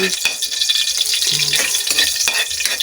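Eggplant dropped into plenty of hot oil sizzles and crackles steadily up close, with occasional stirring clatter.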